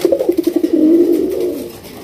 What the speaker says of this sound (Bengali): চলে আসছে দর্শকদের পছন্দের কবুতর বোম্বাই।